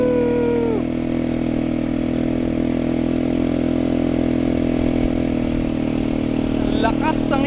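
ATV engine running on a beach, a loud, steady close-up drone that holds throughout, with brief voices near the end.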